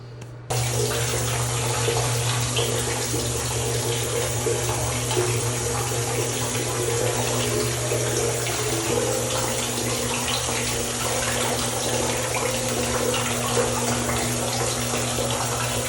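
Running water rinsing mud from soaked hiking shoes after a rainy trail day, a steady loud gushing flow from a tap close by, continuous throughout.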